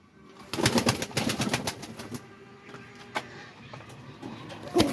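Pigeons in a home coop give soft cooing calls alongside a run of rapid fluttering wing flaps, close by and fairly quiet, with a few sharp clicks.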